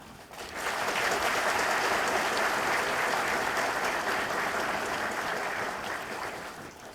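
An audience of Korean justice ministry staff breaks into sustained applause after an address on prosecution reform. Many hands clap in a dense, even wash that swells quickly, holds steady and then tapers off.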